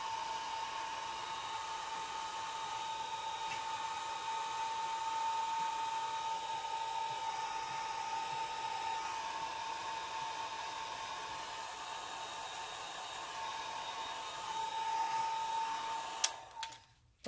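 A hair dryer dries alcohol ink on a floral branch painting with a steady, close, high-pitched whirring drone that runs unbroken and then cuts off at the end.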